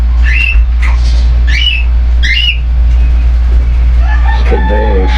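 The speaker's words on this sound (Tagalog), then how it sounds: "Good bird." A pet bird gives a series of loud, sharp squawks, three close together early on and a longer warbling burst near the end, over a steady low hum.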